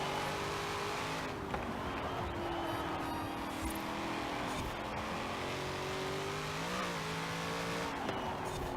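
Corvette Z06 engine in Forza Horizon 4 droning and revving steadily, pitch climbing and dipping with gear changes, loud and continuous with occasional tire noise.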